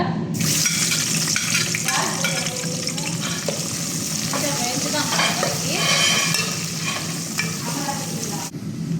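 Onions and spices fry in hot oil with a constant close sizzle, broken by repeated scraping stirs of a utensil against the pan.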